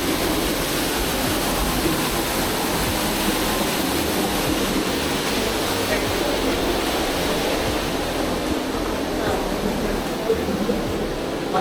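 Water runs steadily from a foot-wash shower at teamLab Planets Tokyo, a close, constant rushing hiss with no breaks, with faint voices in the background.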